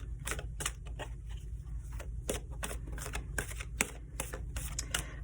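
A deck of tarot cards gets shuffled up close, with quick, irregular riffles and soft slaps of card stock repeating over a quiet room.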